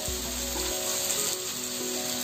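Chopped val beans hit a hot pan of tempering with sautéed onion and green chilli, raising a steady, fairly loud sizzle that fills the whole clip with no voices.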